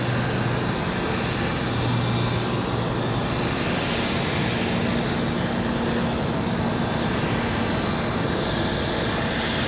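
American Airlines Boeing 737 jet taxiing at Raleigh-Durham airport, a steady, fairly loud broadband engine roar with a whining tone, holding even throughout with no voices.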